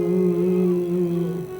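A voice imitates a bumblebee humming around flowers, holding a steady, droning buzz for nearly two seconds before it fades slightly at the end.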